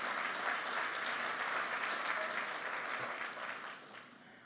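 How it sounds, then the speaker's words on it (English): Sustained applause from an audience at a call center awards dinner, a dense steady wash of many hands clapping that holds for several seconds and then thins out and fades toward the end. "Applaud yourselves."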